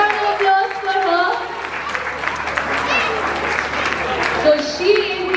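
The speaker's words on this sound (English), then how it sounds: "Big round of applause for her" Steady audience applause at a Morning Star school annual day as teacher Vaishali Solanki is called up, a dense continuous clapping crowd with a few louder claps near the end.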